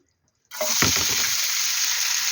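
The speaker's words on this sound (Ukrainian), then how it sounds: "У нагріту сковородку я вливаю оливкової олії" Olive oil hits a heated frying pan after a moment of silence and bursts into a loud, hissing sizzle that holds steady and close.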